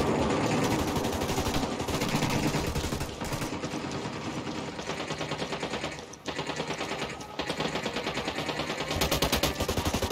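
Dense, continuous automatic gunfire in the video game Ghost Recon Wildlands, loud rapid bursts filling the whole stretch with only a brief dip near the middle.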